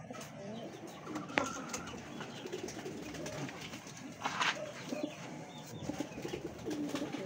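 Breeder birds in a cage, likely pigeons or doves, give soft intermittent coos and calls at moderate distance over a steady background murmur, with no clear talk.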